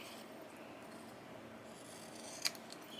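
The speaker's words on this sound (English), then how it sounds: "Let's go ahead and cut that one." Scissors snip through paper postage stamps, a quiet steady rasp of the blades ending in one short crisp cut close by.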